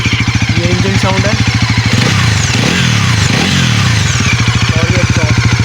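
Bajaj Pulsar NS400Z motorcycle engine idling with a steady pulsing throb up close, then revved twice in quick rising-falling surges before settling back to a rhythmic idle; loud and continuous.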